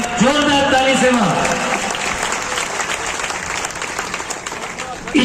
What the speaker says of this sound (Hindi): सब जोरदार ताली सेवा